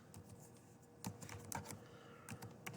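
Typing on a computer keyboard, entering text in StarCraft Create: a steady patter of close keystrokes with a few sharper, louder clacks, no voices.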